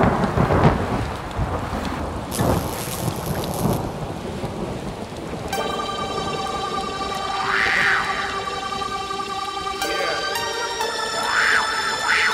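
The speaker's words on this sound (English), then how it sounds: "Pouring rain, thunder" Heavy rain pours steadily in a thunderstorm setting, with deep rolling thunder rumbling close by near the start and eerie tonal, whale-like synth tones layered over the downpour later on, all with no voices.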